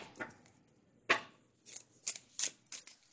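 A deck of cards, apparently tarot cards, is shuffled close by: a few short, quiet riffling and sliding bursts with brief pauses between them.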